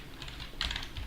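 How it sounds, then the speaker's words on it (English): Someone types on a computer keyboard at a command line on Fedora. The keystrokes are quiet and clustered, with a brief faster burst in the middle, and there is no talking. "Oh, maybe let me try typing something this time."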